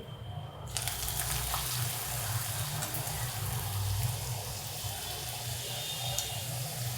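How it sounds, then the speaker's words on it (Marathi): Potato puri drops into hot oil and sets off a sudden, sustained sizzling hiss that stays close and steady for the rest of the stretch, with no talking. "तर तेल तापले, मी तळून घेते. अशा तेल तापले, तेलामध्ये सोडते."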